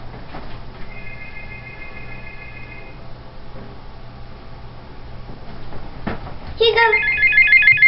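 Telephone ringing with an incoming call, a bright electronic ring tone heard twice, faint at first then louder near the end, over a low background hum.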